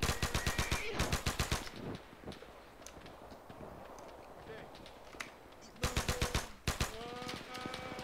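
Gunfire in the Medal of Honor video game on a D-Day mission: loud rapid automatic bursts open the moment, give way to scattered lighter shots and battle noise, then a second heavy burst returns near the end, with voices around it.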